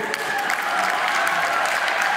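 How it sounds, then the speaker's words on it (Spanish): Graduates receive steady applause at a graduation ceremony, a continuous crowd of hands clapping evenly for a couple of seconds at moderate volume with no voices rising above it. "Un aplauso para ustedes."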